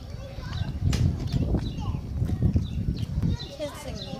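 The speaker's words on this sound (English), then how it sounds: "Look at this ass just wandering around the road like he owns the place." Donkey hooves clip-clop on the road in Oatman, a steady run of close, hard clopping steps with people talking over them and birds faintly audible.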